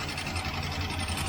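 A 1967 Mustang with a 390 engine idling with a lifter tick, a steady close engine rumble with a fine rapid ticking texture running through it, and no talk.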